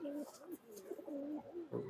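Pigeons coo in a soft, rolling series of low, wavering calls, heard alone and fairly quiet, with several phrases running back to back.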